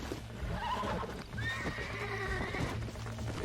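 A horse in Red Dead Redemption 2 gives a loud, close whinny midway, with hoof clip-clops and a low musical drone running underneath.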